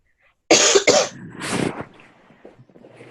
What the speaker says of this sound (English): I've been coughing when I talk